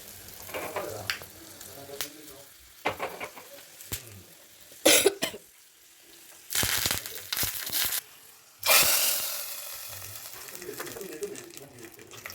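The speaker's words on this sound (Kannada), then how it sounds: "ಬೆಳ್ಳುಳ್ಳಿ ಮತ್ತು ಗುಂಟೂರು ಮೆಣಸಿನ್ಕಾಯಿ ಮತ್ತು ಕರಿಬೇವಿನ ಸೊಪ್ಪು ಎಲ್ಲ ಹಾಕ್ಕೊಂಡು ಒಗ್ಗರಣೆ ಕೊಡ್ತಿದ್ದೀನಿ." Garlic, Guntur chillies, curry leaves, mustard seeds and cumin hit hot oil for a tempering. Loud hissing sizzle bursts flare up in the middle and near the end, with coughing and throat clearing around them.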